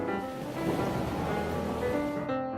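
Summer ocean surf washes steadily on a beach, a continuous broadband rush of breaking waves with no voices, fading slightly at the end.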